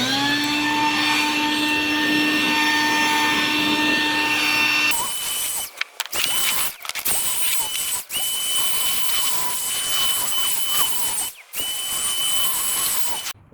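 Dust being blown off a freshly smoothed concrete skateboarding ledge, a loud, steady whining blower rush that cuts in and out in short bursts, close by with no talk.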